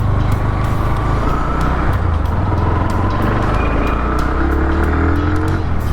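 A 2023 Bajaj Pulsar NS 160 motorcycle revs hard on a test ride, its engine roaring loud and close with a steady rising drone and constant wind rush.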